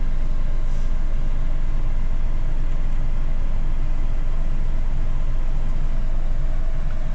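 Train carriages roll slowly past with a steady, loud, continuous rumble and low grinding of wheels on rails, unbroken throughout.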